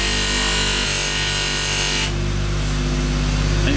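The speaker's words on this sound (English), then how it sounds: "You load it up onto the machine. And you start polishing." A polishing machine buffs an SU carburettor float chamber, giving a steady loud motor whine with a rubbing hiss that changes character partway through as the part presses against the wheel.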